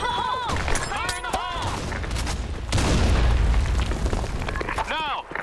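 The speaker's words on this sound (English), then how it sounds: "Fire in the hole. Grenade." A video game grenade blast erupts midway as a broad, loud boom with rumbling decay, surrounded by shouted voice lines.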